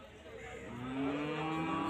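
A cow at a cattle market gives one drawn-out, low, rising moo at close range and fairly loud.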